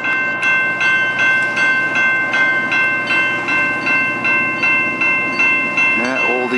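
CN local train led by an old EMD GP9 locomotive passing a railroad crossing in St Lambert, Quebec, loud and close, with rhythmic clickety-clack of wheels over rail joints, a steady engine drone and ringing crossing-bell tones.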